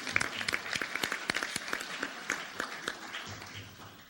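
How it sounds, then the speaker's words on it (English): An audience at a Rotary club meeting claps for about four seconds, a moderate burst of individual hand claps that thins and fades toward the end. "I give her a round of applause"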